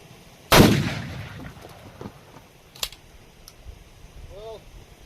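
Winchester Defender 12-gauge shotgun firing a 1-ounce, 2 3/4 inch slug: one loud, sharp blast with a decaying outdoor echo, followed by fainter clicks and handling noises.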